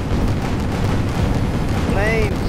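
A rocket explodes in the airship battle game Guns of Icarus Online with a loud, sustained roaring boom that fills the whole moment. A brief rising whistle-like tone cuts through near the end, and a voice speaks over it.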